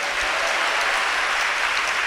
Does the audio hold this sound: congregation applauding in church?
yes